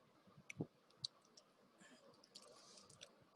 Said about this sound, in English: I'm clicking on the start button to start the test